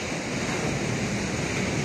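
Steady broadband rush of ocean surf and wind during a sea crossing by boat, constant and fairly loud throughout, with no voices.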